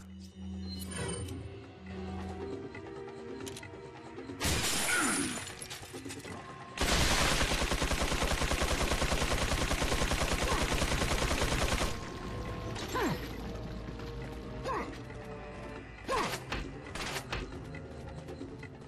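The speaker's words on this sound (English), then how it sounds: "Those be oh god, a Gatling gun guy" A Gatling gun enemy in Resident Evil 4 fires a long, loud, sustained burst of rapid shots for several seconds, preceded by a shorter burst, amid other game noises.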